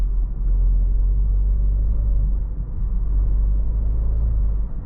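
A Maserati Grecale GT with a 2-liter twin-charged four-cylinder engine pulls in sixth gear in comfort mode, making a deep, steady low rumble from inside the cabin with no talking.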